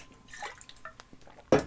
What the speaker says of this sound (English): But, hold on, I need a sip.